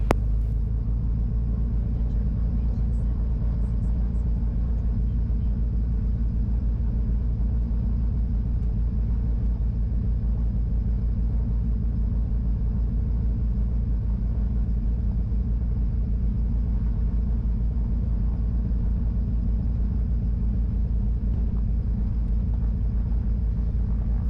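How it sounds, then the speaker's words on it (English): Twin-engine Cessna piston engines drone in a steady, loud, even rumble as the aircraft taxis at an airport before departure, heard from close by and unbroken throughout. "Twin Cessna 771 Bravo Charlie is departing runway 27 with a left turn out to the southeast"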